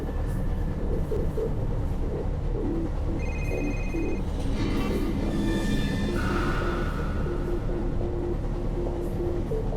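A subway train pulls into platform 16 in the game Condemned: Criminal Origins, with a steady heavy rumble and clatter, high squealing tones from the wheels and brakes, and a sustained pitched whine as it slows.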